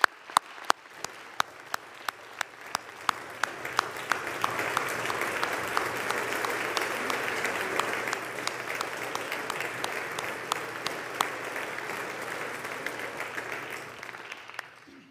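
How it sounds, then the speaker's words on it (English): A large crowd in the US Congress chamber applauds steadily for about fifteen seconds, swelling after a few seconds and holding dense clapping throughout, with occasional louder individual claps standing out. "Thank you for this round of applause."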